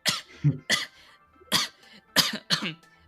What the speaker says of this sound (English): coughs a little bit